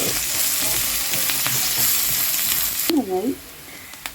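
Curry leaves crackle and sizzle in hot oil in a pan of mutton curry, a steady close frying hiss with a brief stir near the end.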